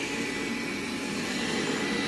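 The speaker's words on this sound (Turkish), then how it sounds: "Wi-Fi olmadan robot süpürgenin çalışmasının nasıl olduğunu paylaşacağım" Roborock S5 Max robot vacuum cleaner running offline without Wi-Fi, a steady broadband whirring drone of motor and suction that holds level and close throughout, with no talk over it.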